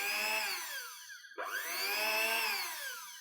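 A whisk beats a trifle mixture in a home kitchen with a steady whirring whine that rises and falls in pitch, dips briefly midway, then picks back up, with no voices.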